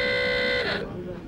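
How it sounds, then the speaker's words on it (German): A ship's alarm in an animated film sounds as one loud, sustained electronic buzzing tone that holds steady, then cuts off abruptly, leaving a faint tail. "Das war Alarm. Und diesmal klingt es ernst."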